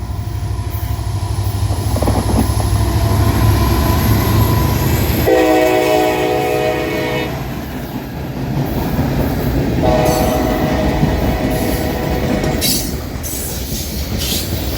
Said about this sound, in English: The next morning, northbound Mannifest train 16R makes its daily run.